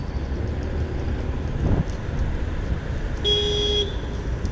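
Road traffic rumbles steadily on a ride toward Pali Bhutivali, with a short thump midway and then a clear car horn honk sounding for about half a second at moderate distance.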